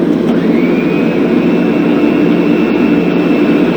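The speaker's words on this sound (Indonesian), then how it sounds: "ketika petugas menara bandara mengizinkan pilot berangkat, maka ia pun mulai menjalankan pesawatnya" An airplane's engines drone steadily at the start of its takeoff run down the runway, a loud, continuous low roar with a faint rising whine and no speech.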